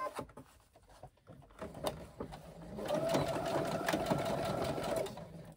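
A sewing machine stitches a quarter-inch seam along a zipper: a few handling clicks and taps come first, then the motor runs in a steady, close whir for about two seconds before stopping.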